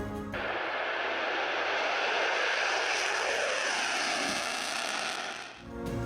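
Loud, steady roar of an F/A-18 Hornet fighter jet engine, a broad sustained rush that holds for several seconds before easing off near the end, with no voices.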